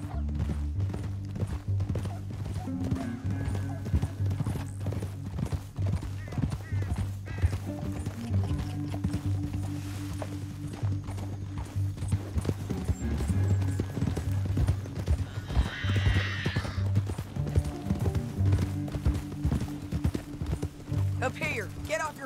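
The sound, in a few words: horse galloping and neighing in video game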